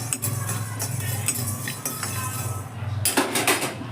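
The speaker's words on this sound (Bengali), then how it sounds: "গোটা ধনেটাকে হালকা করে নেড়ে নেবো প্রথমে" Whole coriander seeds dry roasting in a pan are stirred over a low gas flame, with continuous light rattling and clinking of seeds and utensil against the pan and a brief louder burst near the end.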